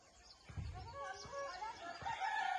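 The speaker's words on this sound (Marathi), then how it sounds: "ती बघा कोंबडी इली, पुन्हा इली" A few chickens cluck and call softly nearby, short irregular bursts over faint background noise.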